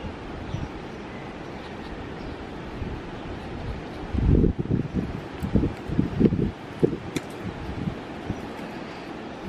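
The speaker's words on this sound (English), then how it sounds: "The wind is back." Wind blowing outdoors on the Amalfi Coast, a soft steady rush that swells into heavier gusts buffeting the microphone for a few seconds in the middle before easing off again.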